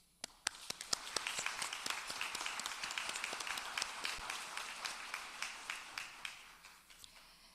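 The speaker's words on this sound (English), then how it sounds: "Students, this is your day, and we applaud you for all that you have accomplished." Audience applause at a nursing and physician assistant school pinning ceremony, a dense patter of many hands clapping steadily, fading slightly toward the end.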